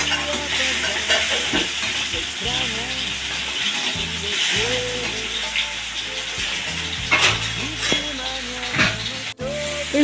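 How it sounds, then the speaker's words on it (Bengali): Pointed gourd fries in a pan for a potol masala, giving a steady, close sizzle with intermittent stirring and scraping throughout, with faint tonal sounds underneath. "এটাকে ভাজতে থাকবো।"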